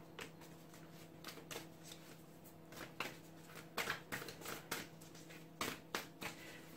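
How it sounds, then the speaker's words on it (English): Crisp, repeated riffling and slapping of a tarot card deck being shuffled up close, in quick bursts with short pauses between them. "Three more shuffles."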